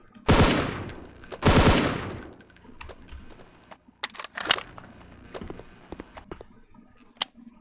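5.56 rifle firing in HDTF, a Half-Life mod: two loud, sharp bursts of rapid automatic fire up close, followed by scattered single shots, clicks and lighter clatter.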